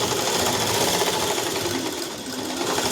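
Sewing machine stitching a dress top, a steady loud whirring drone with a dense mechanical chatter of the needle, continuous and close.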